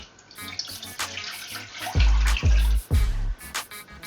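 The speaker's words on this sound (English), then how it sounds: "pour the water." Water poured into a cold pot to start bulalo oxtail broth, a continuous splashing pour with several heavier surges, close and alone without talk.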